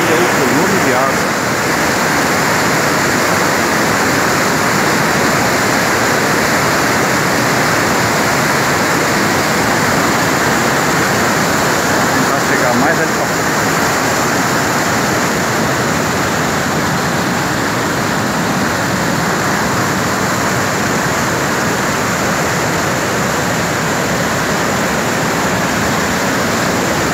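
A flash flood torrent roars down the Ribeirão Grande river after heavy rain, a loud, steady broadband rush of water that never lets up, with faint voices beneath it.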